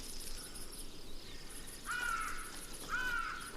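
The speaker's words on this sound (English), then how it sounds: "Faced with the chick's insistent cries for more" A missel thrush chick in a Mediterranean forest gives insistent begging cries, two thin high calls about a second apart, over a steady backdrop of chirping insects and distant birds.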